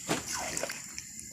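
Water poured into a pot of meat cooking in gravy, one quick, close splash and slosh followed by faint settling.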